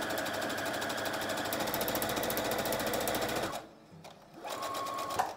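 A sewing machine stitches a cloth face mask in a steady, loud, fast mechanical whir, then stops abruptly for a moment of near quiet before a shorter burst of stitching resumes.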